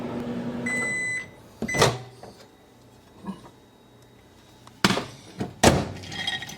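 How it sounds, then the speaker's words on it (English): Microwave oven running with white chocolate wafers in a microwave-safe bowl, a steady hum at the start that stops, followed by sharp thunks and clicks of the door and bowl being handled. "now we're going to put them in the microwave, and we're going to start it at 30 seconds"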